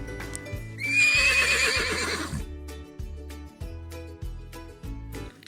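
A horse lets out a loud, shrill neigh that rises and trails off, followed by steady rhythmic clip-clop hoofbeats.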